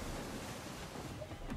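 Sea waves and rushing wind surround a sailing ship in the video game Assassin's Creed III, a loud, constant roar of surf and gusts with no break.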